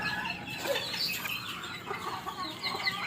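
Serama bantam chickens, including micro Serama kept for breeding, cluck softly in a pen over steady background noise, with a few brief higher calls rising out of the murmur.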